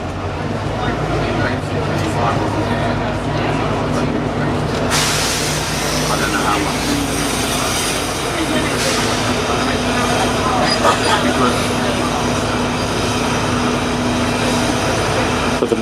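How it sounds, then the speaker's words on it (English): A Thameslink train rumbles steadily and close by as it slows near London King's Cross, a broad roar with faint squeals, while people talk underneath. "There's a Thameslink train that's just slowing down"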